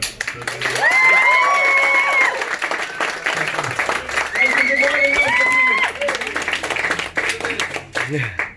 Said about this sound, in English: Everywhere I go, people applaud